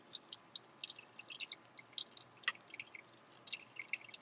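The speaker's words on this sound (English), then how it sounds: "you can literally hear the lemon juice just pouring out of this lemon into the food processor bowl" Lemon juice dripping from a squeezed lemon into a food processor bowl while making béarnaise sauce, a quiet, irregular patter of small close drips.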